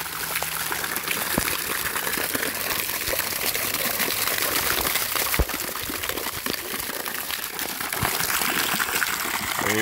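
Water gushes hard and steadily from a fountain shower head on an Intex saltwater pool outdoors, a loud, continuous rushing spray that lasts throughout with no talking.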